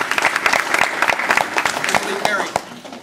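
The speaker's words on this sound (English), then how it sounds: "You can applaud for Isabella" Audience applause at a high school fall sports awards night, a steady patter of clapping from a crowd, with faint voices mixed in throughout.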